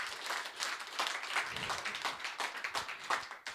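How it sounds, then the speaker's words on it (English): Audience applause at a conference session on communication tools: a moderate crowd claps in uneven, rippling bursts that hold for a few seconds before tapering off at the end. "Thank you so much. Big applause."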